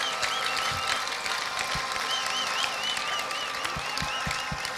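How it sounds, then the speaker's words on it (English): Congregation at a church service clapping as an offering, a steady wash of applause with occasional louder hand claps and a faint wavering tone above, continuing throughout. "A big clap offering to"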